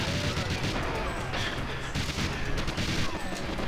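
Bursts of gunfire from the video game GoldenEye 64 crackle in quick, dense succession throughout, fairly faint in the game mix.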